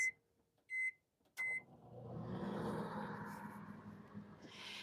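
A microwave oven melting chocolate beeps three times in short bursts, then its motor hum and whirring start up and continue steadily at close range.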